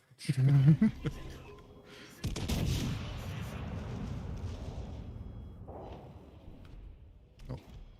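Warship main guns fire in the naval game World of Warships: Legends: one heavy boom with a long rumbling decay. A voice speaks just before the blast.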